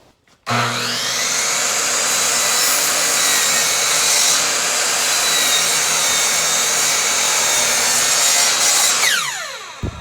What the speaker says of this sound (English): We're going to start on the miter saw, cutting a 45, and just cut a bunch of pieces